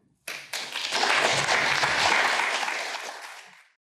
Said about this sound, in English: Got a decent round of applause for that.